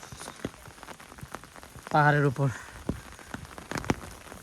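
Light drizzle patters softly in a hillside jungle, a faint scattered crackle of drops with a brief voice speaking in the middle.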